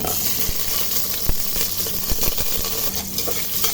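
Garlic, onions, star anise and bay leaves sizzle in hot oil in a pan for chicken adobo, with a spoon scraping and stirring in scattered close clinks over a steady frying hiss.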